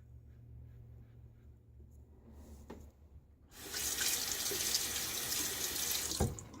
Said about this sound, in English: So just rinse off that handle.